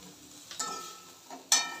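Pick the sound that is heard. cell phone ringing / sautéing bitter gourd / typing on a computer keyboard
sautéing bitter gourd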